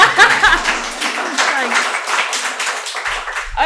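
A lecture audience applauds a speaker on democracy in revolutionary Cuba, a dense, steady wash of clapping hands lasting several seconds, while a voice briefly speaks near the start.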